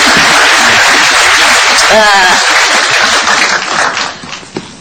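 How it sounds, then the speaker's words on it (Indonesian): A studio audience on Global TV applauds guest Mbak Ani, a loud, dense wash of clapping that fades toward the end, with a voice briefly heard over it. "Kita boleh tepuk tangan sekali lagi untuk Mbak Ani"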